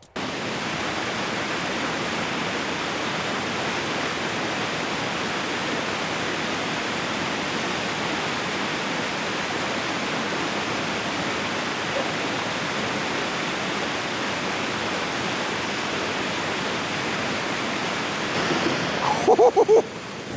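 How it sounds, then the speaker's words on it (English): Stainforth Force waterfall on the River Ribble in the Yorkshire Dales roars as a steady, loud broadband rush of falling water, unbroken for the whole stretch, with a brief rustle near the end. "Well, behind me, if you can hear me, is Stainforth Force."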